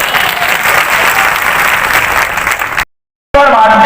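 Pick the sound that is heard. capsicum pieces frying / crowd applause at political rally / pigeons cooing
crowd applause at political rally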